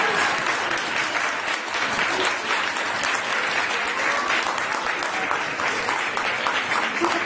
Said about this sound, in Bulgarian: Доктор Ружа Игнатова се наслаждава на вашите аплодисменти